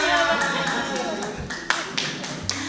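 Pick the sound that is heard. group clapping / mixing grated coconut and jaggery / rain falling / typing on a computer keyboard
group clapping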